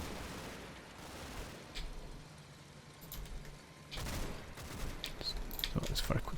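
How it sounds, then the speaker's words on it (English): Suppressing fire from a carrier in Combat Mission: Battle for Normandy comes as bursts of rapid gunfire over a low rumble, with a sharp cluster near the middle and a louder sustained volley toward the end. "The carriers started putting down some fire."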